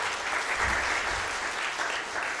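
An audience claps for staff at a film festival, a dense, steady applause from many hands that fills the short moment without pause.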